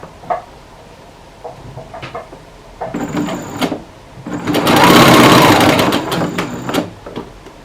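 A sewing machine seams the side seam of a crochet striped skirt with a drawstring, running in short bursts and then one longer, louder whirring stretch, close up and with no talking.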